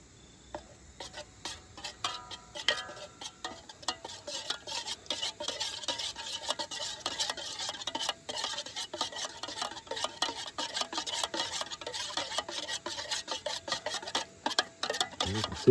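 A spoon scrapes and clinks against a small metal camp cook pot as peanut butter soup is stirred and melted, a near, steady run of irregular scraping strokes.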